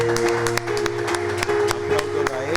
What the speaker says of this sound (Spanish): Dale un fuerte aplauso al Señor en esta mañana.